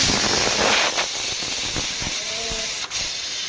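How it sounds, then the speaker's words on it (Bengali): Cabbage boils in a wok on the stove, giving a loud, steady hiss of steam and bubbling with a few soft knocks, close and continuous. "তো দেখো বাঁধাকপিটা সিদ্ধ হচ্ছে, দেখো যেমন যুদ্ধ করছে। এটা কড়াই চাপিয়েছি,"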